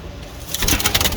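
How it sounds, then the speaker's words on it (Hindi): A Barfai pigeon cooing at close range, a short low burst of throaty calls over a faint background, with no talking. "बर्फाई कबूतर है, स्पेशल मंगवाया है मैंने ये कबूतर"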